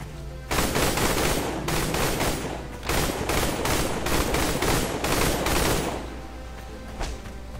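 Sustained machine-gun fire from the video game Dino Horde in rampage mode, loud and near, firing in long bursts with brief gaps, no voices over it.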